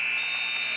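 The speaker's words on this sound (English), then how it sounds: "Let the buzzer go." A game-ending buzzer sounds at a women's college basketball tournament game between Hope and Baldwin Wallace. It is one steady, loud electronic tone that holds for about a second with nothing else over it.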